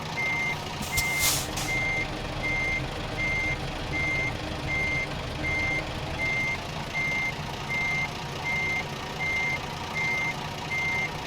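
Evenly spaced reversing beeps from a truck backing a long trailer in American Truck Simulator, repeating steadily about every half second over a low engine rumble, with a short hiss near the start.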